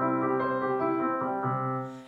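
Several sustained piano notes are played with the soft left pedal pressed, giving a quiet, muted, gently overlapping tone that fades out at the end.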